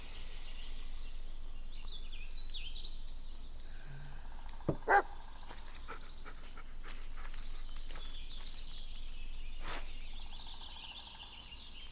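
A dog in the horror game Blair Witch gives a couple of short, sharp barks midway through, set against quiet outdoor forest ambience with faint bird chirps and scattered small clicks.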